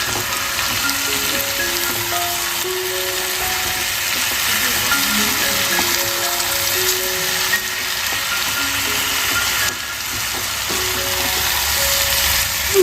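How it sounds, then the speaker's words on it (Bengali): Spices for a beet and carrot curry sizzle and fry steadily in a pan, a continuous bright crackle with occasional stirring, while a voice talks faintly over the cooking. "ভালো করে কষিয়ে নিতে হবে নাহলে কিন্তু মশলার গন্ধ থাকবে"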